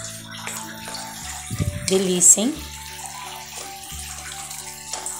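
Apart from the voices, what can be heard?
water being poured into a pan while cooking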